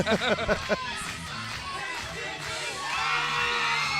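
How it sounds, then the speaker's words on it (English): A wrestling crowd at a PTW Next Level show cheers and whoops for Maxx Sledd, opening with several loud shouts before settling into a sustained roar of excited voices that swells again near the end. "And listen to that crowd. They are excited for Maxx Sledd."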